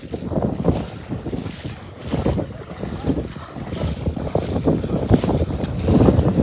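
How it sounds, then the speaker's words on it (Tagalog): Strong wind buffets a fishing boat at sea, gusty rumbling bursts rising and falling close to the microphone, mixed with engine and water noise and a little distant talk. "Lakas ang hangin."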